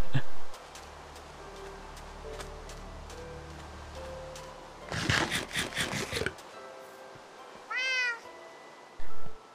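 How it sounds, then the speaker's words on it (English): A pet cat in Minecraft, kept in a safari net, lets out a few short meows spaced seconds apart amid quiet game ambience, with a rustling burst in the middle. "we have a pet cat. And when the meowing gets too much"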